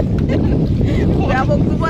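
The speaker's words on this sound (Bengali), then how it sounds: "নদীতে এরকম হাওয়া কিন্তু সবসময় হয় না" Strong wind buffeting over a choppy river as heard from a small boat, a loud continuous roar with gusty rumble throughout, voices faintly mixed in.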